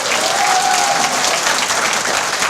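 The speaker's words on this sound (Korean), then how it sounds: "이인영 최고께도 축하의 박수를 보내주시기 바랍니다." Congratulatory applause from a crowd at a Democratic United Party political rally, a sustained, even roar of clapping that stays loud and dense for a couple of seconds.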